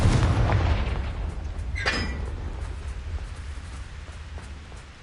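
Confringo fire spell in the Hogwarts Legacy video game: a loud, close blast with a low booming rumble, followed by a sharp crackling burst and a fading tail.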